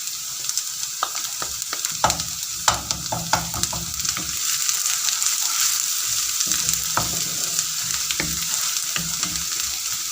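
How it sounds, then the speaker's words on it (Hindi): Garlic paste frying in a pan with onions for a masala fish curry, giving a steady sizzle with scattered stirring clicks and scrapes throughout. "अब हम इसमें लहसुन का पेस्ट डालेंगे।"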